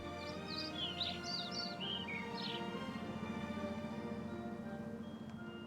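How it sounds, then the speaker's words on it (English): Birds chirp morning songs in a meadow, a few quick high tweets clustered near the start over a steady background of ambient noise, then quieter. "Slowly, all of the meadow awakens to the chirping morning songs of the birds."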